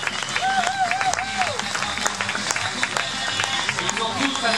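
A crowd applauds young motorcycle riders at an outdoor event, the clapping steady and mixed with voices and a few rising and falling tonal sounds.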